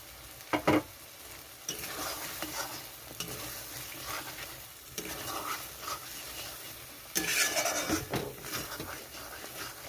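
Coconut paste for a prawn malai curry is added to a hot pan and fried, steady sizzling broken by several louder bursts of stirring and scraping, close and busy throughout.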